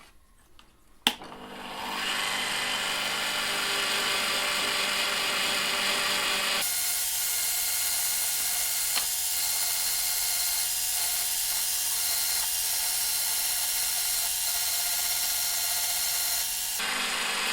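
A wire wheel scrubs rust off vintage pliers with a steady, bright, hissing whir that starts after a sharp click and runs loud and continuous, with a slight change in tone partway before stopping.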